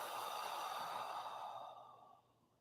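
A single long, deep exhale during a gentle beginner mobility workout's breathing exercise, a soft, airy breath close to the mic that fades out slowly over about two seconds, with no talking.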